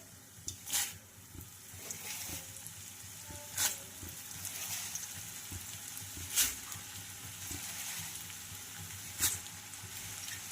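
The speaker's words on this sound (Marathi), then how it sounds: "या तेलामध्ये जसे जसे पोहे बसतील तसे तसे टाकून फ्राय करून घ्यायचं आहे आपल्याला" Thin poha (flattened rice) frying in oil with salt, a soft continuous sizzle and hiss with a few sharp bursts spaced several seconds apart, quiet and close with no voices.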